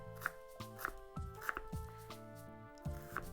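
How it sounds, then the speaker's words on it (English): A knife taps rhythmically on a cutting board while mincing half an onion, close and quiet, with a few heavier chops among lighter repeated strikes. "I'm going to mince half an onion"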